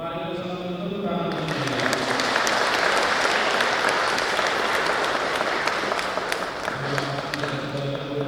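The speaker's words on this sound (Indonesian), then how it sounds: "bersama tepuk tangan." A congregation applauds at a church wedding blessing, a dense, sustained wash of clapping that swells in after a spoken voice and holds steadily before voices return beneath it.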